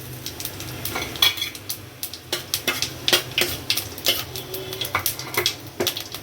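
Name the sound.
cumin seeds sizzling in hot refined oil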